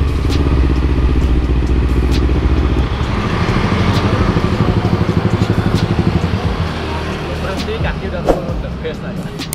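A Kawasaki Ninja 250 FI motorcycle rides along with its exhaust detached, giving a loud, raw, rattling engine drone with clattering, close up throughout, while a rider talks over it.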